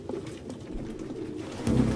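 Pigeons cooing in a run-down apartment in the video game Detroit Become Human, low soft throaty coos repeating steadily at close range, with one louder coo near the end and no speech.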